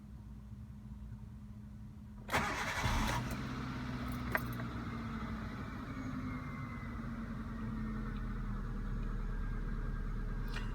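The engine of a Hyundai Getz 1.1 GSI is started: a short cranking burst catches and settles into a steady, fairly close idle hum that runs on without talk.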